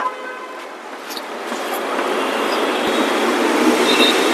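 A Bangalore metro train runs with a steady, loud rumble and rushing wheel noise that gradually grows, with faint high squeals and tones over the constant rolling sound and no talk.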